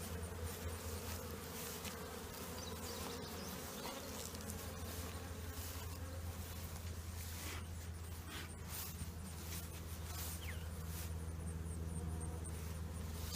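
Honey bees buzz steadily around healthy, active beehives, a dense continuous drone of many wings close by, with occasional individual bees whizzing past and no talking.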